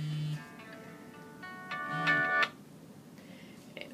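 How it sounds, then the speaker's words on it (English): A mobile phone rings nearby with a bright electronic melody of repeating tonal notes. It swells louder before stopping suddenly, and faint chimes follow. "Let me mute my phone so this doesn't happen again."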